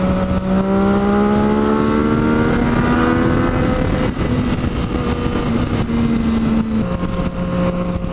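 A Yamaha FZ-09 motorcycle engine, ridden in third gear, climbs loudly in pitch as it accelerates, then drops briefly at a gear change and pulls again, with heavy wind rush throughout.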